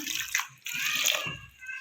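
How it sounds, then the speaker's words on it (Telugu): Water is poured into a cooking pot before boiling, a splashing gush that pauses briefly then resumes, with someone talking softly underneath. "నేనైతే దీన్ని ఉడకబెట్టుకుంటున్నా వాటర్ అయితే కొన్ని వేసుకోవాలి"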